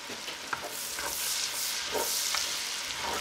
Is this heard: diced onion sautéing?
yes